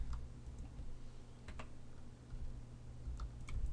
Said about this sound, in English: Hit G on your keyboard and then Z, so it moves it directly up on the Z axis.